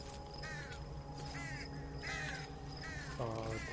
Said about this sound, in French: j'entends le corbeau.